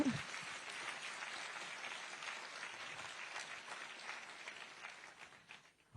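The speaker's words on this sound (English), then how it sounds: "you can give a round of applause for that." An audience in a hall at a prestigious hospital in New Delhi applauds hospital directors during a formal address, steady moderately distant clapping sustained for several seconds before thinning out.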